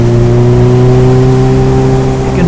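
Onboard a Suzuki B-King motorcycle, the engine accelerates with a loud, close, smooth drone whose pitch climbs gradually, running alone without voices.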